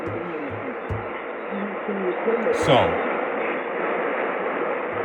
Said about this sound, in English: they're both coming from thousands of miles away, and there's a shit ton of static